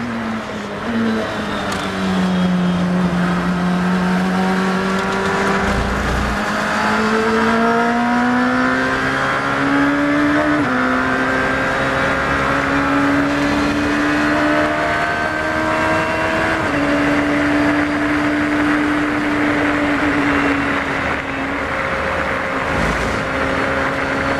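A car lapping the Silverstone F1 circuit drones loudly from inside, engine pitch rising through gears and dipping on shifts and braking, continuous with no talk.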